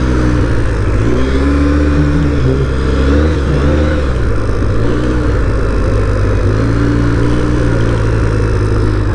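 A Polaris Sportsman 800 quad engine runs loud and close, a steady mid-pitched drone with shifting revs, continuous for the whole stretch without speech.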